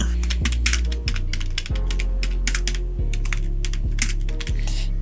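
Steady clicks from a computer keyboard as someone types a channel name, with brief pauses between bursts, close and clear beneath a low constant mechanical hum.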